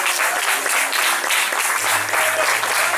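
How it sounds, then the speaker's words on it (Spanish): A church congregation bursts into sustained applause for the Lord during a Spanish-language service, the clapping even and full throughout with a low hum rising beneath it partway through. "Vamos a darle un aplauso al Señor"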